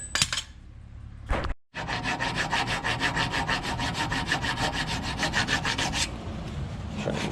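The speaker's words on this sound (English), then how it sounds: "Try and get the majority of the rust and stuff off." Rust being scrubbed off the rear wheel hub of a 2003 Pontiac Sunfire with a hand tool: after a brief pause comes a run of fast, rhythmic rasping strokes, close and steady, with no talking.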